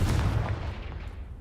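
Confringo blasting spell exploding in Hogwarts Legacy; one loud, deep, booming blast with a rumbling decay fading over about a second, with no talk.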